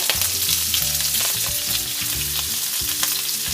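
Cabbage for egg rolls fries in hot oil in a wok with a loud, steady, dense sizzle, and a low musical tone hums beneath it throughout; no one talks.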